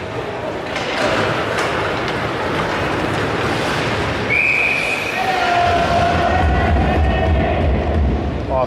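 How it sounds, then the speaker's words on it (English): At an under-18 ice hockey game between Avonlea and Radville, a referee blows a brief, shrill whistle for offside midway through, cutting above the constant rumble and echo of the arena. "offside, whistled down for a face-off."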